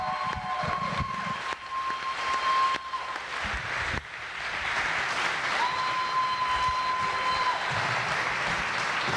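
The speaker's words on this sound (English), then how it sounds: "everybody owes those 4 people another round of applause" Sustained applause from a wrestling event crowd rolls on for several seconds, steady and dense, with a faint tone and some hall noise underneath.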